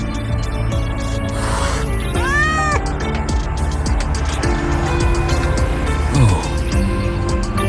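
A frightened cat in the video game Wuthering Waves gives a short rising-and-falling meow, heard over a busy, steady bed of game music and ambience.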